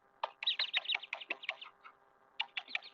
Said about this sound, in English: I'm surrounded by birds.